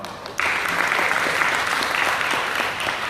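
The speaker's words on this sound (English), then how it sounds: "let's give her a round of applause" A room of event guests at a hotel gathering breaks into steady, dense applause after a brief quiet start, the clapping holding loud and even for the rest of the stretch.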